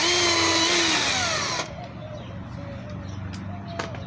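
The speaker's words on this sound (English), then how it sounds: "I'm going to drill that just a hair bit bigger." A power drill enlarging a hole whines loudly and close for over a second, then stops, leaving low background noise with a couple of small clicks.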